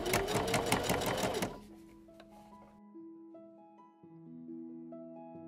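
A sewing machine stitches a seam on a Victorian bodice in a fast, loud, close mechanical whir, then stops abruptly and is followed by quiet sustained tones.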